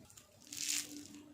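A single brief crisp crunch comes from a bite into a fried pakora, close and fairly soft, rising and fading within about a second.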